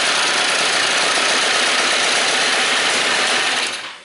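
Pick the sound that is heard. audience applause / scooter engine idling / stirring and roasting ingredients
scooter engine idling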